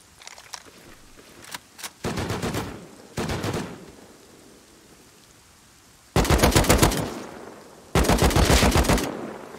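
AK rifle fire in a video game: a few scattered single shots, then four loud rapid bursts of automatic fire, each lasting about a second, separated by quiet gaps.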